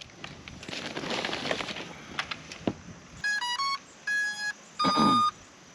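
An underwater search drone unit powers up with three short bursts of bright electronic beep tones, each a quick melodic chirp pattern, following a stretch of crackly handling noise.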